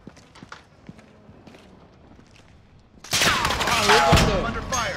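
Gunfire in a military shooter video game: after about three seconds of quiet clicks and shuffling, a loud, dense barrage of shots and blasts erupts and carries on to the end.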